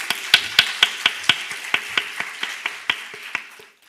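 Clapping at a Taiwanese security forum comes as a string of about fifteen crisp, evenly spaced hand claps, close and fairly loud, slowing slightly and fading out at the end.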